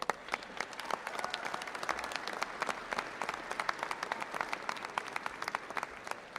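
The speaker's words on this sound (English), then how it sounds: "Thank you for that big round of applause" A rally crowd outdoors at a state capitol breaks into a big round of applause, dense steady clapping from many hands sustained throughout, loud and close with no talking over it.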